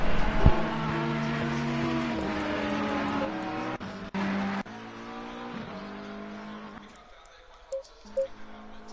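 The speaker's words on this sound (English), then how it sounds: "the number 11 Ferrari next to cross that start-finish line" A number 11 Ferrari race car at a wet Suzuka circuit drones with a sustained, shifting engine whine under live commentary before fading out near the end.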